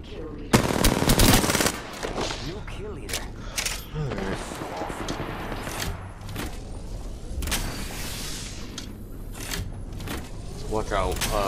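Rapid automatic gunfire from Apex Legends bursts loudly early on, then scattered shots and clatter continue under a player's excited talk.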